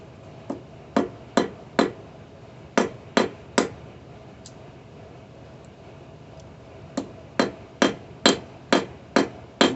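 A hammer strikes a sterling silver ingot on a hard surface in crisp, ringing blows, fired in quick bursts of three or four with short pauses, loud and close, with no talking.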